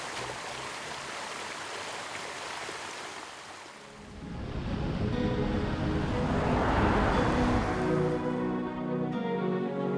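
A waterfall at Jackson Falls on the Natchez Trace Parkway, heard as a steady broadband rush of falling water that swells louder midway and stays constant, with no talk.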